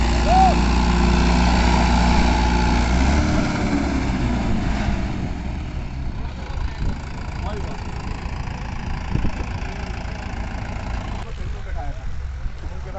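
A Mahindra 575 tractor engine works a wet field, its low rumbling drone loud and close for the first few seconds and then quieter. Someone talks over it throughout.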